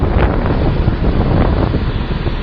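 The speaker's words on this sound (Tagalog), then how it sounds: "Sobrang lakas ng hangin." Strong wind roars and buffets the microphone at a waterside spot where a fishing pole is being pushed around by the gusts. The blast is loud, continuous and close, with no voices.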